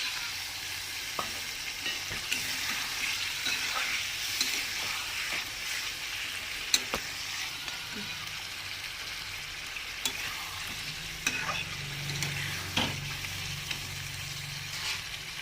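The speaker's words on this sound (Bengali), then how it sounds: "দেখো ভালো করে নাড়াচাড়া করে নিচ্ছি" A spoon stirs chicken masala frying in a pan, with a soft continuous sizzle, scattered scrapes and occasional sharper knocks against the pan.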